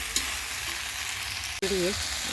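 Vegetables sautéing with salt in a home kitchen pan, a steady close sizzle with a brief clatter midway, no talking.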